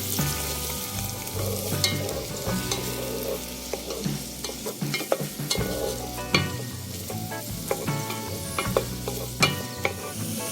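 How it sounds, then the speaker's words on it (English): Onions frying in melted margarine over medium heat for broccoli cheese soup, a lively close sizzle with crackles and the scrape and clink of stirring throughout, no talk. "So melt in your margarine on medium heat, add in your onions"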